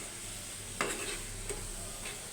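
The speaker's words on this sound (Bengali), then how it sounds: "জিরা পাউডারটা দিয়ে দিচ্ছি, এখন সুন্দরভাবে একটু মিক্স করে" A spoon stirs momo filling seasoned with cumin powder in a pan, giving a few soft scraping strokes over a faint, continuous low sizzle, quiet and close with no talking.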